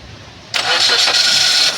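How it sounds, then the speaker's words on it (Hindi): A car engine with a no-crank fault, hot-wired with a single wire, cranks briefly and catches, settling into a loud steady idle after a quiet moment. "वो देखिए गाड़ी स्टार्ट हो गई।"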